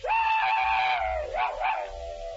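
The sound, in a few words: man imitating a howling dog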